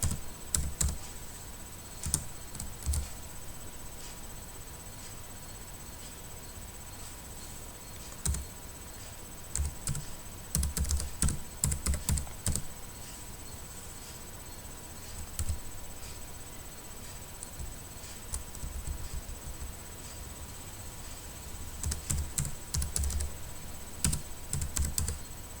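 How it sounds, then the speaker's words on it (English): Keys clack on a computer keyboard in bursts of quick, close typing separated by short pauses, with no one talking. "You see here I have just typed git config -global user.email"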